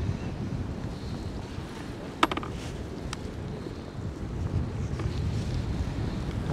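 Strong wind buffets the microphone beside a river in a steady, rumbling roar with gusts that swell and fade, broken by a couple of faint knocks, and no one speaking.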